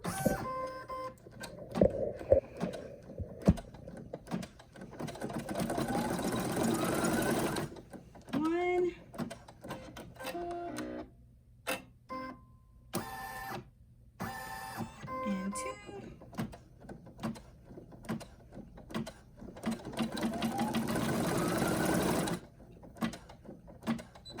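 Brother NQ1700E or PE800 embroidery machine stitching a placement line in bursts of rapid mechanical needle clatter, loud and close, with pauses between runs and a voice talking over parts of it.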